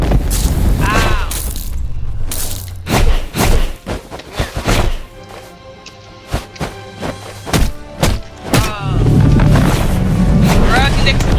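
Explosions and heavy thuds in the Dude Battlegrounds video game come as a loud, chaotic burst of booms and impacts in the middle, framed by excited shouting voices before and after.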